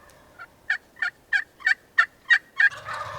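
Wild turkeys call back in response to a hunter's call, a series of about eight evenly spaced, sharp calls from a distance, followed by a brief rustle.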